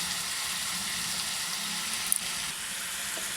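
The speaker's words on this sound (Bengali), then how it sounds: "আলুটা একটু ভেজে নিচ্ছি। দেখুন একটু ভাজা ভাজা হয়েছে।" Potatoes fry in a pan during a winter new-potato recipe, giving a steady, close hiss of sizzling oil with a brief clink of a utensil near the middle.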